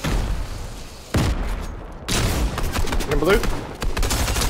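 Fortnite no-build match gunfire, repeated shots and bursts fairly close, with a player's voice briefly over the shooting.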